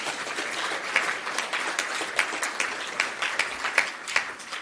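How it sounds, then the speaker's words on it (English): A summit audience applauds a panel, with steady dense clapping and a few sharper louder claps standing out, heard from within the hall. "Please give them a warm round of applause."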